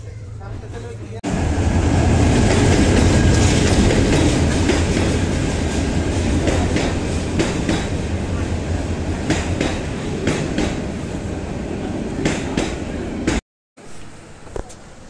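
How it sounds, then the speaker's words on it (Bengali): A passenger train rolls into a station with a loud, sustained rumble and rhythmic clatter of wheels on rails, a crowd of waiting travellers audible beneath it, before a brief cut. "ট্রেন চলে আসতেছে আই থিঙ্ক।"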